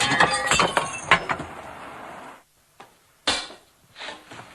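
Old window glass breaks under a hammer during a window repair: a rapid run of clinks and crunching shards, then a pause and a few separate clinks of broken pieces, close and loud.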